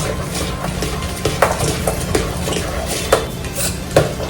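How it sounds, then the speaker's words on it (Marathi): Cream being churned for butter in a pot, with repeated metallic clinks and scrapes of the churning utensil against the vessel over a steady low rumble, a few sharper knocks standing out. "आपण आता ह्याला फिरवूया लगेच आपलं लोणी निघतं"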